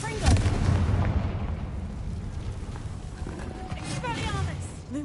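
Confringo blasting spell cast in the Hogwarts Legacy video game, a loud burst of explosive crackling near the start that fades into a rumbling tail, with a voice shouting the incantation and game music underneath.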